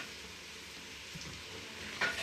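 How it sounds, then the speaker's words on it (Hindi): Cumin seeds crackle in hot ghee as a soft, steady sizzle close by, ending in a brief louder burst of spattering, with no voices. "इसमें हल्का सा जीरा डालूंगी।"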